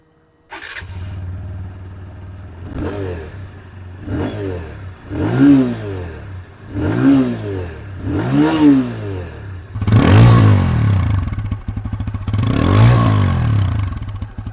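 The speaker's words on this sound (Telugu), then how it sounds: "విన్నారు కదా ఇంజన్ యొక్క సౌండ్ అలాగే ఎగ్జాస్ట్ నోట్ లైవ్లో వింటున్నాను" A 2025 TVS Apache RTR 160 2V motorcycle engine starts and idles, then revs repeatedly in rising and falling bursts, the exhaust note growing louder and deeper toward the end.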